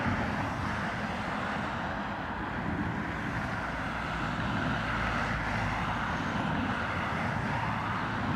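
A Ryanair airliner landing on runway 28 left at Dublin Airport in crosswind, a steady broadband roar of engines and rushing air that stays constant and moderately distant throughout.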